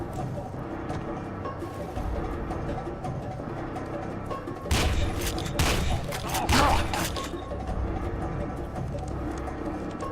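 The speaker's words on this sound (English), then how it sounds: "I shotgunned him so hard his leg fell off" Shotgun blasts in F.E.A.R. 2 (Reborn expansion), a couple of loud, sharp bursts clustered midway and standing out over steady game ambience.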